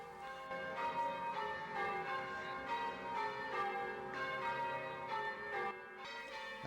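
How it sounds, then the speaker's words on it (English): Ireland's oldest church bells, dating from 1423, ring in a Dublin church tower in a steady sequence of resonant, overlapping tones, fairly faint and distant, with no talking. "in the tower are Ireland's oldest church bells"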